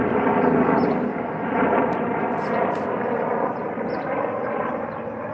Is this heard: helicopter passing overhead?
yes